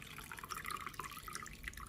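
Mop water trickles and drips through the slots of a squeeze mop bucket into its dirty water tank, a soft, continuous patter of splashing liquid heard close and quiet.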